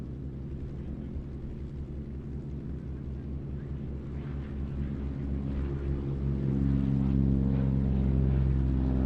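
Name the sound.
Goodyear FG1D Corsair propeller fighter aircraft taking off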